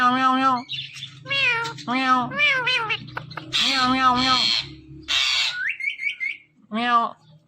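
A ringneck parrot imitates a cat's meow in several sharp, nasal calls mixed with squawks and whistled chatter, close and loud throughout.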